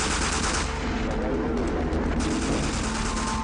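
Gunfire during the Waco siege shootout, a dense, continuous crackle of shots in a noisy, distorted recording with no break in the din.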